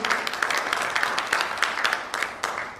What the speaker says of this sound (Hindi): बार जोरदार तालियां चाहूंगा दोस्तों,